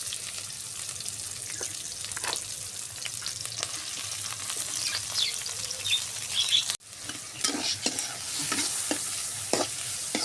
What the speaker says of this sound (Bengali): পেঁয়াজটা এখন সুন্দর করে ভেজে নেব।